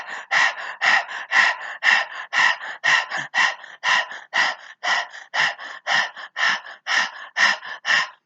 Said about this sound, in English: The first exercise is rapid breathing with tongue out for 1 minute.